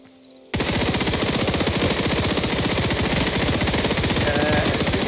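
Rapid automatic gunfire in Hytale, a steady dense burst of shots hammering at a fence that starts abruptly after a brief quiet moment and continues loudly without pause.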